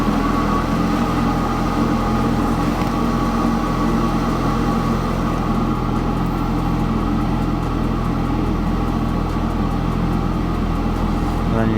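A Ford Focus RS Mk3 engine idles after a cold start, a steady, even rumble that holds unchanged throughout.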